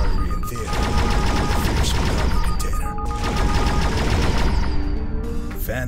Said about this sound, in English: Pull the primary fire trigger to fire the energy cannons.